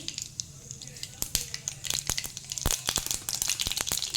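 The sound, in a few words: mustard seeds crackling in hot oil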